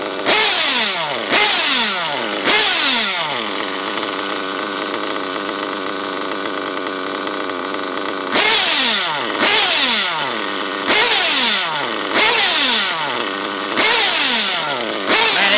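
Small modded nitro engine on an RC buggy, loud and close, firing in repeated short revving bursts with rapid rising pitch sweeps, settling into a steadier buzzing idle in the middle.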